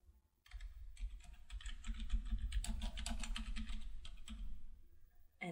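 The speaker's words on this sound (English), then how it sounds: "So we'll type the title of a book as a phrase search in the box." Steady keystrokes clatter on a computer keyboard as a book title is typed into a library catalogue search box, close and fairly quiet, with no talking.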